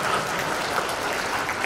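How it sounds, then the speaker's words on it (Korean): A congregation at a pastors' and elders' prayer gathering applauds in a dense, even patter of many hands, sounding like continuous clapping rather than one single clap, with no talking. "이때는 박수를 한번 치는 겁니다."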